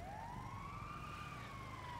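An ambulance siren in the video game GTA V wails with a slow rising and falling tone, steady and somewhat distant over a constant rumble of traffic and engine noise.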